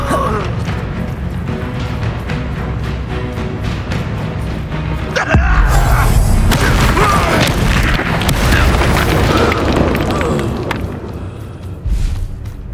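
Spell blasts from the Bombarda and other charms boom and crash in Hogwarts Legacy, a heavy explosion swelling in the middle and rumbling on amid game effects, with smaller impacts before and after.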